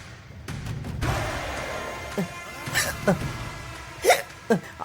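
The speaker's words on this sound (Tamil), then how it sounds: "ரொம்ப விக்கல் வருது அத்தை, ஏதாவது ஆயிட போகுது அத்தை." A woman hiccups several times at a wedding hall, sharp isolated gulps spaced irregularly over faint background murmur and room noise.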